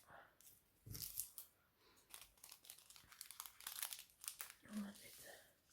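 A packet of diamond painting drills is opened, giving soft, close crinkling and tearing rustles in short bursts, with quiet talking alongside.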